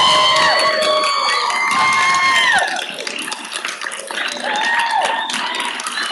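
A council meeting audience erupts in loud cheering, shouting and clapping at a Memphis City Council session on police reforms, the crowd noise sustained and dense, dipping slightly partway through.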